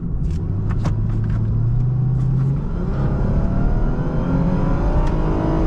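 A 2012 Lexus IS350 F-Sport accelerating hard, a steady loud engine roar with a rising low drone filling the whole stretch, heard from inside the car with no talking.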